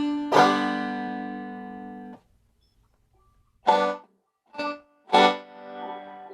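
An old-time banjo's first string rings out and fades, then after a pause three separate picked notes follow in quick sequence, each bright and ringing.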